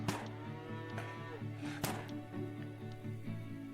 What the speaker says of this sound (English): There's cows that sound like pigs.